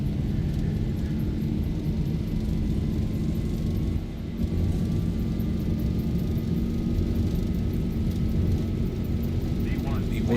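Ryanair Boeing 737-800 jet engines roaring steadily during the takeoff roll in a flight simulator, a dense continuous rumble with a slowly rising whine, loud and close, with a brief dip midway.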